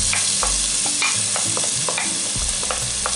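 Chopped onion frying in extra virgin olive oil in a pan, a steady broad sizzle with scattered clicks and scrapes of stirring, close and fairly loud throughout with no talk.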